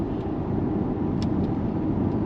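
A Mercedes GLB 35 AMG drives with traction control and ESP off, its engine a steady, dense drone under road noise from inside the cabin, with no change in pitch.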